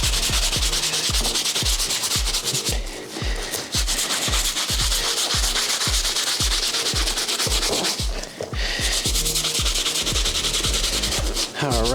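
A stiff bristle brush scrubs the midsole of a Jordan sneaker in quick rhythmic strokes, loud and close, with a couple of brief pauses and no voices.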